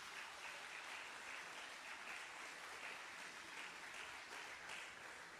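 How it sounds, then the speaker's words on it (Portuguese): A congregation at a church service gives sustained, dense applause, an even wash of many hands clapping throughout with no voices standing out. "Você pode dar uma salva de palmas a Deus nesse lugar, meu?"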